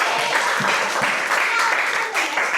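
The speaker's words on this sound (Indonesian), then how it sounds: "tepuk tangan dulu untuk kita semua." A school class applauds together in a classroom, a steady, dense wash of clapping across the whole stretch, fairly close and moderately loud.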